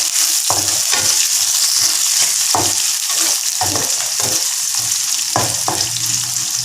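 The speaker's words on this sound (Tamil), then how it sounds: "வெங்காயம் வறுத்துக்கு" Onions frying in a pan for a keerai sothi made with August tree leaves and coconut milk: a loud, steady sizzle with repeated scraping stirs of a spoon against the pan.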